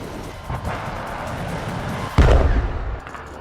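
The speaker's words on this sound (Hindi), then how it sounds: "तेल अवीव पर हिजबुल्लाह ने रॉकेट्स दाग दिए" Explosions from rockets fired at Tel Aviv: a steady roar of distant blasts, then one loud, heavy boom near the end that fades out, with no voices.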